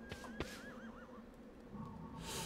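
A horse in the video game Shadow of the Colossus gives a short wavering whinny, near and clear, followed by a soft snort over quiet game ambience.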